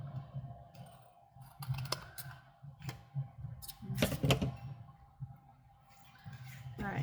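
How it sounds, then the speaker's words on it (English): The side of a paper tag is trimmed, with a run of crisp cutting and clicking noises, rising to a louder rasping burst midway before it settles back to softer handling sounds. "I'm going to trim up this side a little bit"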